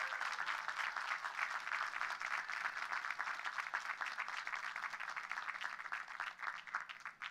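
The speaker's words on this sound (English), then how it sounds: "So please give my parents a round of applause." An audience applauds at a speech, its clapping a thick, continuous patter that stays fairly even for about seven seconds before thinning slightly at the end, with no talk over it.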